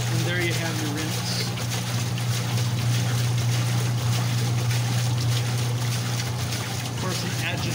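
GE Filter Flo washing machine running its rinse with a mini basket, a steady low motor hum under rushing, splashing water, continuous and fairly close.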